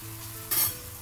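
Wheat dosa sizzles on a hot tawa after being turned, a steady close frying hiss that swells briefly into a louder burst of spitting oil before settling back, with no voices.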